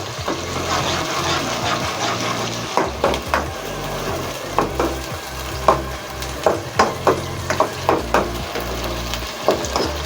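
Ginger garlic paste and onions frying in a pan, a continuous close sizzle broken by repeated scraping and clacking of a stirring spoon, with no talking.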